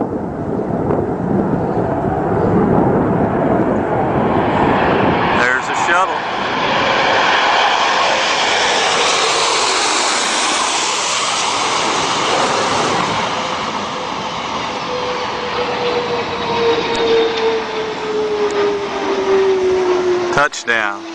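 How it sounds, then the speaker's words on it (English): Roaring jet engines of a landing space shuttle, a loud sustained rushing roar that swells and holds for about twenty seconds, with a falling whine late on and a voice speaking over it. "take a listen to those jet engines"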